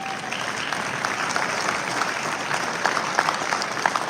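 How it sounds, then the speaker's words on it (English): An audience at an International College of Dentists USA Section event claps steadily, a dense, even wash of applause with no break. "give these guys a round of applause because they have no idea this is happening"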